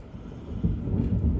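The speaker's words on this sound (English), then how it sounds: "did you hear that thunder?" Low rolling thunder rumbles from a storm in Florida, distant and heavy, swelling after a quiet start and grumbling on for about a second with no voices.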